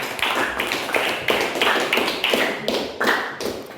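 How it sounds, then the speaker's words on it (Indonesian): Classroom applause rings out as steady rhythmic clapping, sharp even beats roughly every half second for several seconds, fairly close and with no talking over it. "Beri aplaus untuk kita semua"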